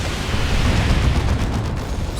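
Rocket volley from tank busters in Dawn of War 2, a Warhammer 40,000 strategy game, bursts in a loud, dense rumble of overlapping explosions that sustains for the whole stretch without a pause.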